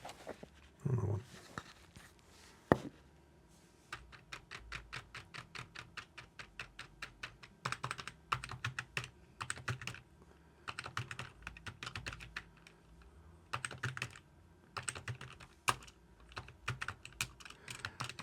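Keys clack on a Keychron K2 HE computer keyboard in irregular bursts of quick, close taps separated by short pauses, with a few louder thumps early on.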